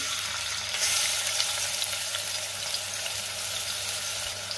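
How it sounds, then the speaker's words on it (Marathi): A steady, loud sizzle of onion frying in hot oil, constant hiss throughout with no talking. "तेलामध्ये मी कांदा घालते।"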